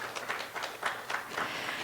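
An audience at a Korean seminar on renewable energy power purchase agreements claps briefly, a short burst of scattered applause from a moderate-sized crowd in a hall.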